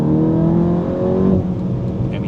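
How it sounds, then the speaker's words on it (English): Golf GTI Clubsport MK8.5 engine revving in its sportiest drive mode with exhaust valves open, a loud, close, sustained high-rpm drone that eases off midway, with a voice speaking over it. "the car really does sound good, and it just opens up the valves so loud and keeps the RPMs at a very high threshold"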